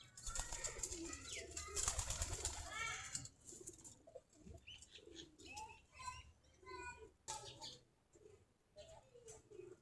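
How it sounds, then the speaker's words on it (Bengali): Native Giribaz pigeons coo in soft repeated phrases close by, with chirps and a brief burst of wing flapping early on, over faint background noise. "এই যে আমাদের কবুতরগুলা, সবগুলা দেশি গিরিবাজ কবুতর।"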